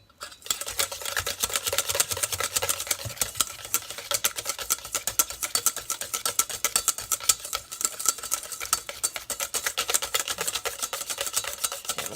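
Keto chocolate chip cookie batter is beaten continuously with a rapid, buzzing whir and clatter that stays loud and even from start to finish, with no talking.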